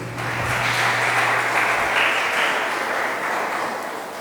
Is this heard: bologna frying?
no